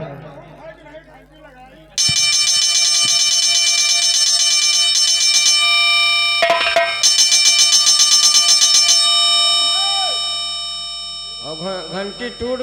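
An electric bell rings loud and continuous in a steady buzzing peal for several seconds, briefly breaks, then resumes before fading into voices, heard indoors in a comic folk play.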